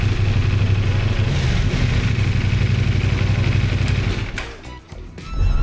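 A CF Moto 450SR motorcycle engine runs after an oil change, idling and revving with a steady close throb, briefly dropping and fading before rising again near the end.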